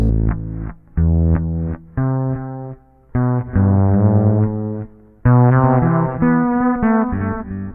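Bass guitar played through a reverse reverb pedal, with a series of sustained, swelling notes and chords separated by short silences, each tone thick and rising into its peak before cutting off, loud and alone without talk.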